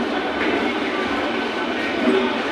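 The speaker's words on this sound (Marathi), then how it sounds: "आपली गाडी सुरू झाली आहे." A passenger train on a Nagpur to Delhi journey starts to move, heard from inside the coach as a steady, close, continuous rumble and rattle.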